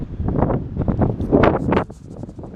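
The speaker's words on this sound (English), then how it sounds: "Very windy out here" Wind gusts buffet the microphone outdoors at a railway embankment, a rough low rumble that swells and fades in uneven surges, loud and close, then eases near the end.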